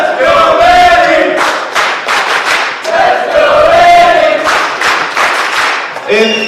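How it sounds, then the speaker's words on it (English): A crowd at a startup competition finals event cheers and shouts loudly and continuously, with whoops, rising chant-like yells and scattered clapping filling the room throughout. "Can we get a cheer?"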